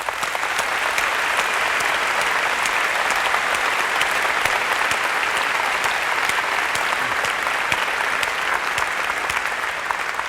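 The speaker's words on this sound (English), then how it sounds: "I'd like to give them a round of applause." A large audience at the Macworld New York 2002 keynote gives sustained, dense applause. The clapping stays steady and loud throughout, with light crowd murmur mixed in.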